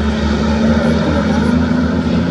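Propeller airplanes droning overhead at the Charade circuit during a French truck race, a loud, steady engine roar filling the air with a faint voice beneath it.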